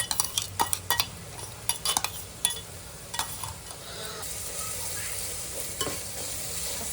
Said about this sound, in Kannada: ವಾಸನೆ ಹೋಗುವವರೆಗೂ ಒಂದು ಸ್ವಲ್ಪ ಫ್ರೈ ಮಾಡ್ತೀವಿ